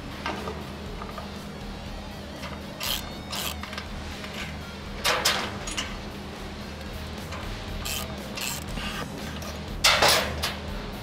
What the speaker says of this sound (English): using a half inch socket, we're gonna remove the stock mounting hardware